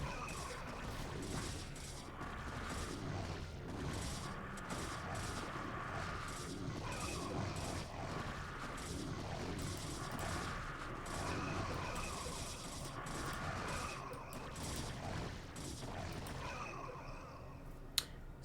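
Busy StarCraft battle between Zealots and Hydras, a steady wash of clashing game combat effects and rapid clicks running continuously at moderate level throughout.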